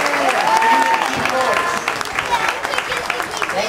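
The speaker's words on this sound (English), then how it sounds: "Let's give another round of applause and do a good job." At a farm animal show, a small crowd claps in a steady, moderately loud patter while voices chatter and call out over the applause.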